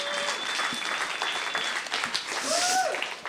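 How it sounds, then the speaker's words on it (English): A small venue audience claps for a few seconds in a steady, fairly close burst of applause, with a voice faintly audible over it. "round of applause for the Grayston Unity"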